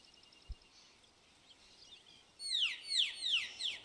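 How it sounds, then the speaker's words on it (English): A deer caller in the hunting video game TheHunter: Call of the Wild gives a few quick, bird-like chirping whistles that sweep downward, fairly close, following a quiet stretch. "Sounds a lot more like a bird caller to me, but what do I know?"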